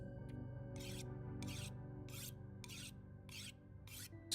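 Rhythmic rasping strokes of a blade being sharpened in The Long Dark, about seven even scrapes at a steady pace over a quiet low ambient drone.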